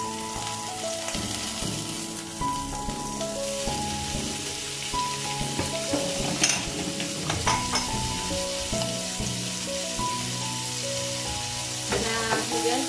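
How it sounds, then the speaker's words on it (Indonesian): Beef brisket (sandung lamur) stir-fried in a pan, giving a steady close sizzle with occasional stirring clatter, all beneath continuous melodic background music. "Kemudian kita tumis. Dan kita masukkan dulu si sandung lamurnya."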